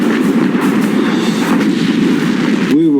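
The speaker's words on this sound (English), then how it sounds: "We were firing broadside." A British battleship fires its 14-inch guns in broadside at the Bismarck, ten shells at a time. The result is a loud, sustained, rumbling roar of heavy gunfire that blends into one continuous barrage.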